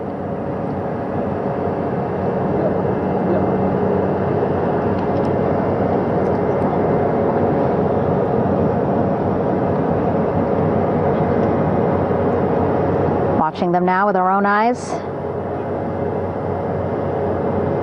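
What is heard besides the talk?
aircraft hovering over the recovery ship's flight deck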